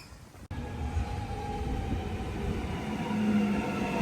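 A train passes at a distance in Australia, a low rumbling roll with a faint tonal hum that swells slowly after a short dropout and stays fairly quiet throughout.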